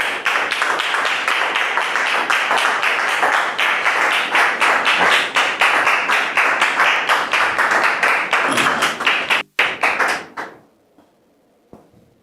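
Studio audience on a French TV talk show breaks into sustained, dense applause for about nine seconds, then it thins into a few scattered claps and fades to near silence.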